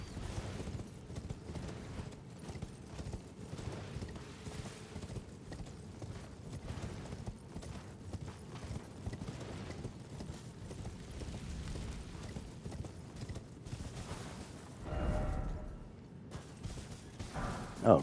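Steady rhythmic clip-clop of horse hooves galloping in Elden Ring, with a rough, busy background and a brief louder swell near the end.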